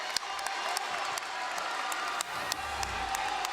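A dense crowd of girls' high school volleyball fans roars and claps as they rush the court after a Section 5AAA playoff win, a steady wash of cheering with scattered sharp claps.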